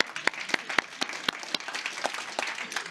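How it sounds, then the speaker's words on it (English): A symposium audience gives faint, scattered applause, with separate claps ringing out at an uneven, loosening rhythm across a quiet room. "we could continue giving a round of applause for your fantastic wrap-up"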